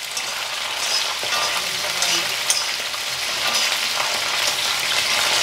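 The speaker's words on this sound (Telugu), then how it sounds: "మనకేంటంటే వేసిన పప్పులు ఏగిన ఏగాలి దోరగా" Lentils dry-roasting in a pan for a brinjal and groundnut roti chutney, with tamarind added, give a steady broadband frying crackle that holds at an even level from start to finish, scattered with small pops and stirring scrapes.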